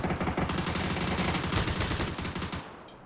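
Gunfire in the battle royale game PUBG: a loud, dense burst of rapid automatic shots rattling continuously for about two and a half seconds before tapering off.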